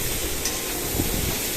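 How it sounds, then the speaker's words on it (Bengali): Pumpkin and potato curry seasoned with sugar and salt is stirred in a pan, giving a short, steady close sizzle with soft scraping and no voices. "এটাকে ভালো করে আমি নাড়াচাড়া করে নেব"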